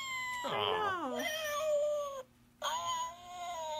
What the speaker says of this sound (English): Here it's the little emergency cat button.